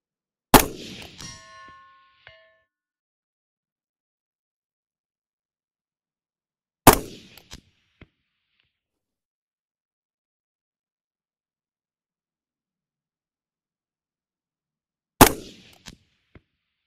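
Three sharp shots from an AR rifle, spaced several seconds apart, each followed by a faint ringing clang from a steel plate target at long range, with silence in between.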